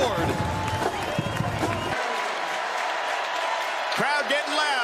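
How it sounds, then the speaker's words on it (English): A stadium crowd roars and cheers at Scott Stadium during a college football game, loud and sustained under excited commentary, with a brief whistle-like sweep near the end. "Crowd getting loud here at Scott Stadium"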